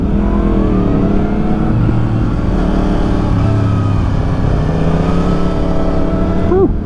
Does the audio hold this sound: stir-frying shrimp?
no